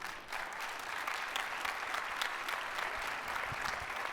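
An audience at a conference talk at SXSW EDU 2018 breaks into sustained applause, a dense, steady patter of many hands clapping that fills the whole stretch at moderate loudness.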